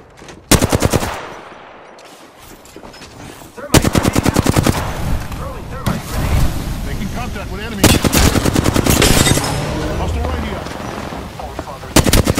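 Rapid automatic gunfire bursts rattle out in a battle royale shooter played as Gibraltar, sharp repeated volleys separated by stretches of combat noise and a voice talking.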